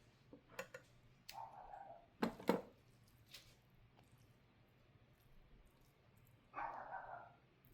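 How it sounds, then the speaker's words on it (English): A small dog barks a few times in the distance, faint and spaced out against a quiet background. "That's Moana, my little dog, barking. She's outside."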